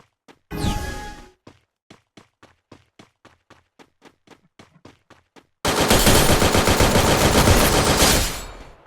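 Video game gunfire: a loud opening burst, then a rapid, evenly spaced series of sharp single shots, followed by a dense, sustained roar of automatic fire that tapers off.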